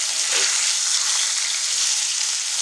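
Large hilsa fish heads frying in hot oil, a steady close, loud sizzle that holds without break.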